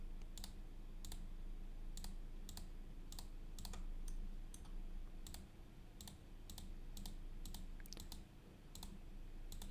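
Sharp, scattered computer mouse clicks, some single and some in quick pairs, tap out irregularly over a faint background hum while polygons are digitized in QGIS.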